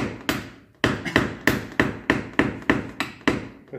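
Hammer tapping out a dent in the side panel of a VW Transporter van, giving about nine sharp, evenly spaced metallic knocks with short decaying rings, close up and with no talk.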